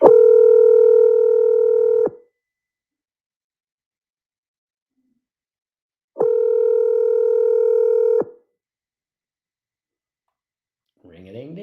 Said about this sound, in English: We have a call here. Let's give this one a ring here.